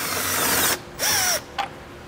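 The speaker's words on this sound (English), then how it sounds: "We'll then have a single fastener underneath that we'll remove with a T30 Torx." A cordless power driver with a T30 Torx bit removes a single fastener on a 2021 Jeep, whirring in two short close bursts followed by a brief blip.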